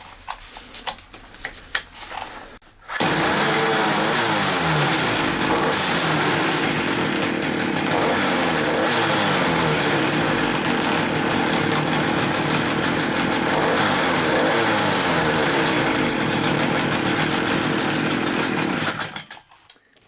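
A Stihl KM56RC Kombi engine starts after a driveshaft repair and runs for about sixteen seconds with a loud, buzzing two-stroke drone. The run ends abruptly, with a few quiet knocks before it starts.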